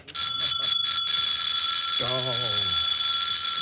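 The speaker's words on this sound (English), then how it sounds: "Whoever it was grew tired of ringing the bell and go away." A doorbell sound effect in a 1940s radio drama rings in several quick bursts, then stops as a voice speaks over a steady background hum.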